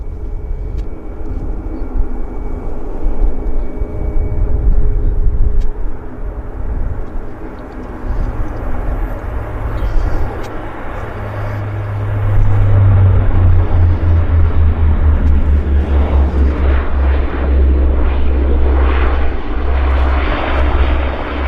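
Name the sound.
Saab aircraft of Westjet Link, operated by Pacific Coastal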